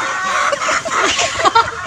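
A chicken clucks loudly and close by, a quick run of throaty clucks fed around a farmyard, briefly mixed with other fowl calls.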